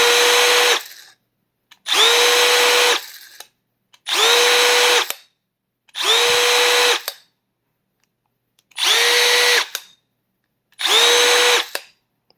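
Milwaukee compact cordless drill spun up repeatedly, six loud whirring bursts each ending in a quick braking stop with silence between them.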